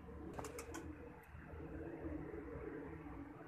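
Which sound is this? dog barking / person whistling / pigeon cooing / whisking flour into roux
pigeon cooing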